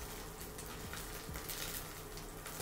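Beef steak seared in a hot pan for a minute and a half per side, a steady close sizzle and hiss running throughout with no talking.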